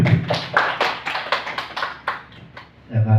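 An audience claps in a loose burst of separate sharp hand claps that thin out and fade over a few seconds, with a brief low murmur at the end.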